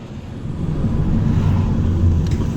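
A 1.6 Opel Astra running on LPG accelerates, its engine a loud, steady low rumble that builds slightly, heard close up with no talking.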